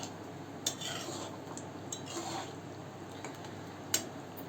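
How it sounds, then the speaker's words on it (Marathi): A spoon scrapes and clinks against a cooking pot while stirring a curry of brinjal, potato and crushed dried bombil fish, soft irregular taps and squelching mixing at close range, no talking. "त्यामध्ये आपण बोंबील ठेचून घेतले ते टाकून देऊ आणि मिक्स करून घेऊया छान"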